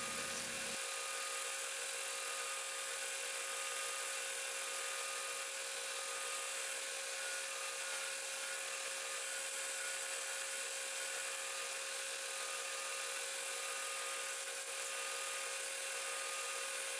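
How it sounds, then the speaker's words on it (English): Sanders work steadily on a 5160 steel Wharncliffe knife blade, a continuous bright abrasive hiss with an even motor hum throughout, close and unbroken. "all I have to do is smooth out the lines with the other sanders."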